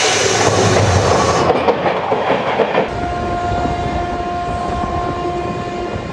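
A passenger train pulls out of Howrah station on its overnight run to Ranchi, heard from close by as a loud, steady rumble with rhythmic wheel clatter that continues throughout.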